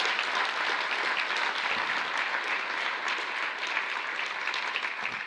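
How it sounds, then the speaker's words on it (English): Steady audience applause filling a hall at an ICFP awards ceremony, a dense, even wash of many hands clapping that holds at a constant level throughout. "Let's give him a applause."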